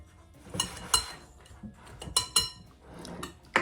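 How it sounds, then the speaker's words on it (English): A whisk scrapes and clinks against a bowl while it blends dry ingredients for a gluten-free pumpkin coffee cake, including cinnamon and brown sugar, in uneven bursts of sharp metallic taps. "Let's get it all whisked together just until it's a uniform color and everything's blended."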